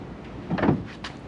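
A Jeep door is lifted off its hinges, giving a short muffled clunk and scrape partway through, followed by a lighter knock, close by and with no talking.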